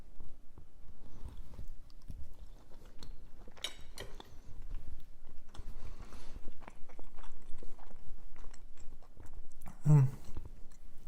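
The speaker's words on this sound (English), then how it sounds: "hope my sound of my chewing doesn't bother you" Close, soft chewing and biting of sous vide turkey breast with cranberry sauce, a steady wet mastication rhythm with occasional light crunches and faint mouth sounds.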